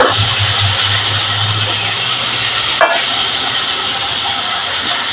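Tomatoes drop into ginger and garlic frying in a pan while cooking a fish curry, giving a steady, loud broadband sizzle throughout with one brief clatter near the middle and no talking.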